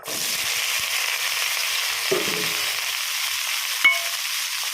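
Pieces of bottle gourd frying in hot oil for a gourd chutney, a loud, even, continuous sizzle close by, with a brief stir and a sharp clink of a utensil near the end.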